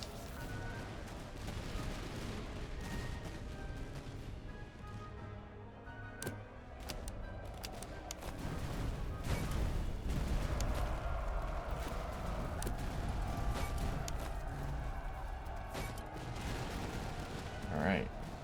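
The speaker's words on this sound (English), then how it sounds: "Let's get these Hessian Grenadiers in range and throw some freaking nades at people." Hessian Grenadiers' grenades explode in the Master of Command battle game, a dense continuous din of cracks and bursts that swells louder midway, with sharp reports standing out above the steady roar.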